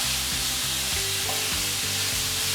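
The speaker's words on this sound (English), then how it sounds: "There's a lovely aroma now coming from the garlic and the ginger. It's starting to sizzle" Garlic and ginger fry with chicken in a hot pan, a steady close sizzle that runs throughout with repeated stirring strokes and no voices.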